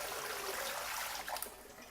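Water pours steadily out of a measuring jug as it is emptied, a continuous close splashing rush lasting about two seconds.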